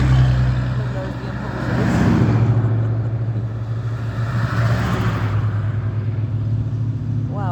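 An old truck in a classic car parade rumbles past at close range, its engine swelling and fading as it goes by. People talk over the low, steady drone.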